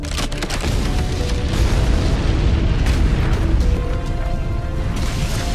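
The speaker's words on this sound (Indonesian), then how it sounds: "Ledakan yang sangat besar pun terjadi." A huge explosion booms and rumbles on for several seconds, deep and loud, with crackling debris scattered through the roar.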